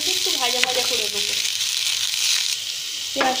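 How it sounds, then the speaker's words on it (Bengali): Onions fry in mustard oil, an even, loud sizzle with spoon scrapes and a few metallic clinks against the pan, plus a brief tonal squeak near the start and again near the end. "পেঁয়াজগুলোকে একটু ভাজা ভাজা করে দেবো"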